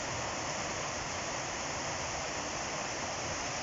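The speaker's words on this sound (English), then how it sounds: "You listen to the flow of the water here," River water rushing at Afton Dam, a dense, steady broadband roar of fast flow filling the whole stretch at a constant level with no voices.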